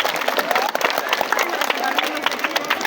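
Students clapping together in a continuous, dense burst of applause, close and steady throughout with a crowd murmur mixed in.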